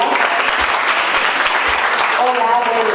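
Dense, steady audience applause fills a hall at an academic social sciences event, with a voice starting to speak as the clapping continues near the end.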